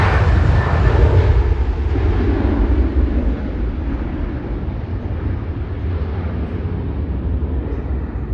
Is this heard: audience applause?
no